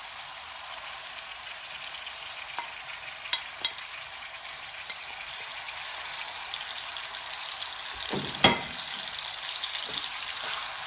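Chicken frying in a cup of hot oil: a constant close sizzle and crackle, broken by a few light taps, with one louder clatter near the end, no speech.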